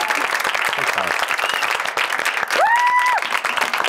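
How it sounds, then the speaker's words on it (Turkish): Talk show studio audience applauds a departing guest, a dense steady clapping that swells near the end, with a brief tonal whistle or cheer rising over it. "Bir alkış daha alıyorum."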